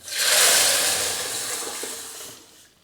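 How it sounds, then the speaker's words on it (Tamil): Water is poured into a cooking pan to rinse it, a bright splashing rush that starts loud and fades over a few seconds, heard alone. "கொஞ்சமாக தண்ணி ஊற்றி சட்டியும் கழுவியாச்சு"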